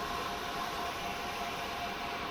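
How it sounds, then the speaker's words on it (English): Steam locomotive vacuum ejector opened in Train Simulator Classic, a steady loud hiss of rushing air with a faint whistling tone, continuous and unbroken. "we're going to open up the ejector"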